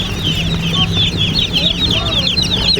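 Newly hatched broiler chicks in a poultry house chirp continuously in a dense, high peeping chorus, many birds at once, with a low steady hum beneath and clucking-like tones mixed in.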